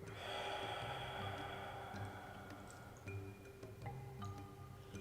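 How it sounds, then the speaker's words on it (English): A deep breath is let out slowly during a yoga session, a soft airy exhale that swells early and fades, followed by faint room ticks and small clicks, with no speech. "Let's take a deep breath in"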